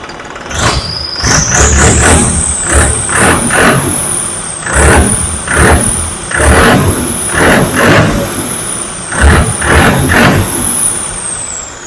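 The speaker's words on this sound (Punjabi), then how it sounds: "ਇੰਜਨ ਦੀ ਪੂਰੀ ਫੜਕ ਬਣੀ ਆ ਕੱਲਾ ਕੱਲਾ ਸਿਲੰਡਰ ਜਿਹੜਾ ਉਹ ਬੋਲਦਾ" A heavy modified John Deere 5210 tractor diesel engine runs loud and close, revving up and down in repeated surges with a rough, throbbing note.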